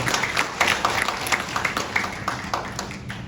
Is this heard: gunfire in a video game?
no